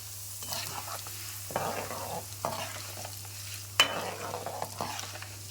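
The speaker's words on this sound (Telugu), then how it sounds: "వేగిపోతాయి ఎండుమిరపకాయలు తర్వాత ఇంగువ కూడా వేసుకోండి" Dried red chillies and asafoetida fry in hot oil for a mango pickle seasoning, a low sizzle with intermittent stirring scrapes and a sharp clink, faint and close, over a steady low hum.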